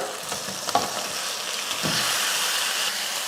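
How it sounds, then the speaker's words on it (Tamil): Chicken sizzles in a pan with ginger garlic paste, a steady close frying hiss broken by a few scraping stirs near the start. "இஞ்சி பூண்டு பேஸ்ட்டு போட்டு நல்லா வதக்கியாச்சு இந்த டைமில் நம்ம வந்து சிக்கன் சேர்த்துடலாம்"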